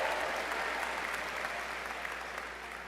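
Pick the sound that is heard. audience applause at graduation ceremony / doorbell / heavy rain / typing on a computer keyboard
audience applause at graduation ceremony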